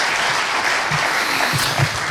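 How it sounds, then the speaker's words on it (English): A concert audience applauds the choir's solo singers at a spring concert, dense sustained clapping throughout, fairly loud and close, without speech. "can you just give one more round of applause for all those brave individuals?"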